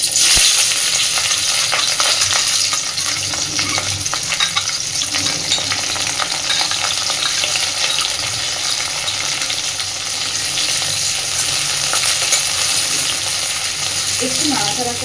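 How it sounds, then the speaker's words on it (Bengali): Slit green chillies, chopped onion and crushed garlic cloves frying in hot oil, a loud, dense, unbroken crackling sizzle lasting the whole stretch, with faint background noise but no clear speech. "তেল খুব সুন্দর করে গরম করে নিয়েছি। এবার আমি প্রথমেই দিয়ে দিচ্ছি চেরা কাঁচা লঙ্কা, পেঁয়াজ কুচি আর কয়েক কোয়া রসুন"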